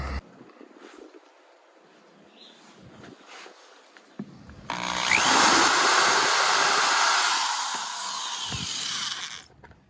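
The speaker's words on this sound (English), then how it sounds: "we're just going to drill a hole so the wire can go through here" A power drill whirs steadily for about five seconds, loud and close, with light handling noises before it starts.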